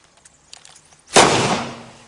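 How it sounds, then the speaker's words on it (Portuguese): A Taurus PT 24/7 9mm pistol discharges accidentally when shaken, giving a single sharp, loud shot with a short decaying tail after faint light rattling. "A arma está fechada e eu vou agitar, ela vai disparar"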